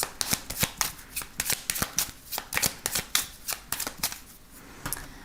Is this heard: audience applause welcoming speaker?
no